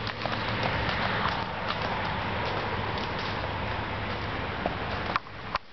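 A gaited horse moving at an easy slow walk, its hooves clip-clopping in a steady rhythm beneath continuous broadband noise that sounds like wind, with a couple of sharper knocks near the end.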